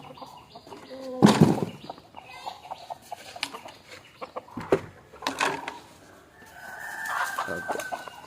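Native country chickens cluck and squawk as their coop is opened in the morning, with loud bursts, scattered calls and a flurry of flapping wings, then a higher drawn-out call near the end.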